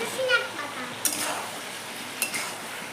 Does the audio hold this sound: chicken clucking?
no